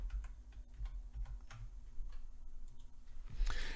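Soft, scattered keystrokes on a computer keyboard, light irregular taps close by but quiet, ending with a louder clunk at the end.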